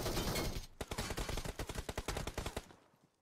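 A rapid burst of automatic gunfire in PUBG Mobile, a steady run of sharp, loud shots fired in quick succession, following a brief blast of noise.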